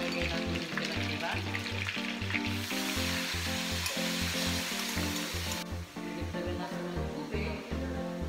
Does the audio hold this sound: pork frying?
yes